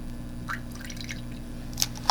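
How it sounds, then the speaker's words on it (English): Water added to red acrylic paint mixed with Floetrol, heard as faint small drips and a couple of sharper liquid plinks near the end, quiet and close with no talking. "And then you add your water to thin it out."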